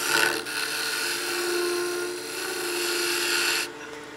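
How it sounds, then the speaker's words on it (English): A skew chisel taking a peeling cut on a spinning wood lathe while shaping a baby rattle: a continuous close scraping hiss that holds steady for several seconds, then cuts off abruptly near the end. "I'll be using a skew with a peeling cut to do that."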